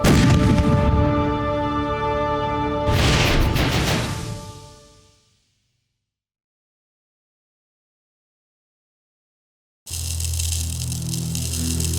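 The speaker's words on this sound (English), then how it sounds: "A test firing using the full-scale replica 15th century cannon." A full-scale replica 15th-century cannon test-fires in rural Leicestershire: a loud deep blast booms and rolls away, fading into near silence before another burst of sound erupts at the end.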